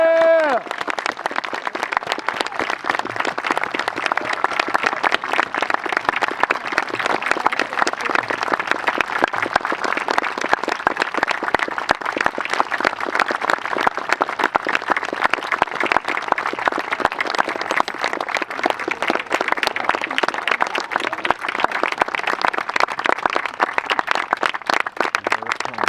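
A commencement crowd claps steadily and densely for a long stretch at a 2019 graduation ceremony, loud and sustained with occasional cheers, while a voice briefly speaks at the start.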